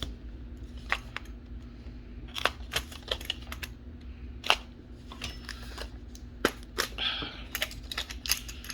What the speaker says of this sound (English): let's cut the tape again.